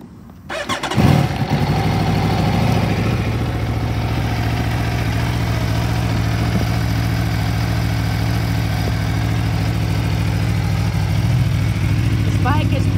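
A 2018 Aprilia RSV4 RR motorcycle engine cranks and fires with a sharp burst, then settles into a loud, steady, throbbing idle that continues close by for the rest of the time.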